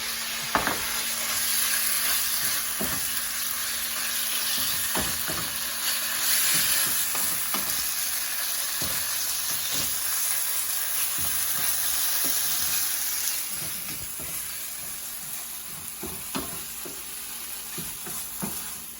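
Pumpkin pieces frying in a pan for coconut pumpkin pasta, a steady close sizzle punctuated by regular scraping clicks of stirring throughout.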